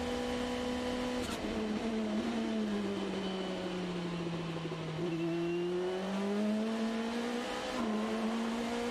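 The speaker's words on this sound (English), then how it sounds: "as we ride the PPG on board with Miles Rowe" Onboard engine of an Indy NXT race car lapping Mid-Ohio during practice, a loud continuous high-revving whine that rises and falls with gear changes and braking for the hairpin, with no talk over it.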